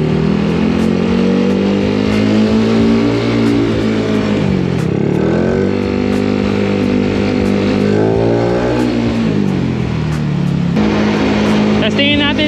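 A Mio i 160cc scooter engine revs hard at high RPM, loud and close, with a sustained harmonic drone that swoops down and climbs back up twice.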